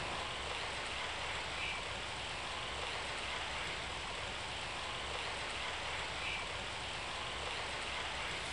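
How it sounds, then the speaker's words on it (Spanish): Steady, dense rain falls in the Chocó rainforest of Colombia, a constant hiss filling the air with no breaks and no voices. "La lluvia tampoco facilita la tarea."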